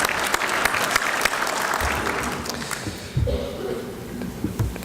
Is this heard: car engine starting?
no